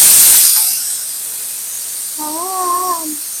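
A pressure cooker on a home kitchen stove, cooking garlic kulambu, vents steam with a loud hiss that fades, then a short wavering whistle tone sounds briefly near the end, with no one talking.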